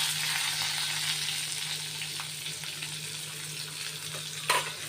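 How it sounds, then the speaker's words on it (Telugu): Finely chopped onions and green chillies frying in hot oil for a curd and brinjal dish, a steady soft sizzle with a low hum underneath and a brief clink near the end. "ఈ ఉల్లిపాయ ముక్కలు కొంచెం దోరగా"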